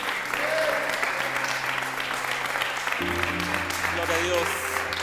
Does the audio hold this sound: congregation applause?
yes